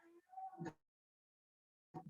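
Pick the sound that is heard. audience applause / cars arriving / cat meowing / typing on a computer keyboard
cat meowing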